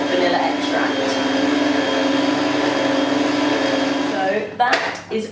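An electric whisk beats meringue with a steady, loud motor whine and whirr, then stops, followed by a few sharp taps against the bowl.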